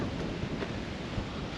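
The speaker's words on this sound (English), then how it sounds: "it's so bloody windy" Strong wind buffets the microphone outdoors near Mount Isa, a loud, steady broadband roar with gusty swells and no voices.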